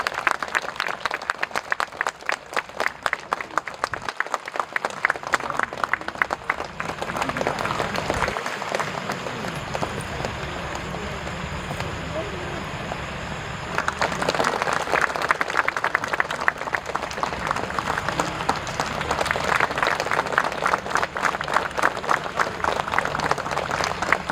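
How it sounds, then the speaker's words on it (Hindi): At a theater performance of the play Vande Mataram ane Bharat (Maa Bharat), a hall audience applauds as a chief guest is welcomed on stage. Loud, dense clapping runs almost throughout, easing briefly in the middle before swelling again with crowd murmur. "तालियों की गूंज कमी नहीं होनी चाहिए।"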